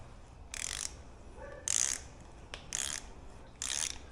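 A regular ratchet turns a thread tap in a shop. Four distinct bursts of pawl clicking sound close and fairly quiet, with pauses between strokes and no talking.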